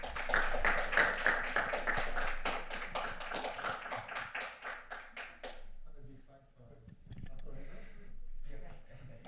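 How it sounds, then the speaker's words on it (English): A small conference audience claps in a brisk, even patter for about five seconds before the applause stops abruptly, leaving quiet room sound and a voice speaking. "Big applause again for you."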